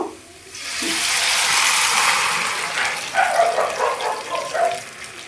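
Water poured into a pot of mutton, a steady gushing pour building after a brief pause, then a bubbling splashy tail as the pot fills, close and without talk.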